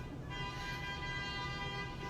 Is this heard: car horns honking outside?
yes